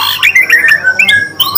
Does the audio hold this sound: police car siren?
no